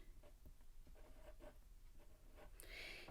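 A pen writes on a paper tag at a crafting table, making faint, close scratchy strokes in short irregular bursts with no talk, ending in a brief higher rustle.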